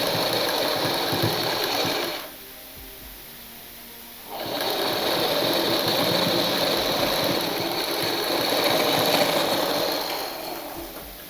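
A sewing machine stitches a newborn's cap-sleeve jabla, a small baby dress, humming loud and close in long continuous runs. A two-second pause breaks it near the start before stitching resumes steadily to the end.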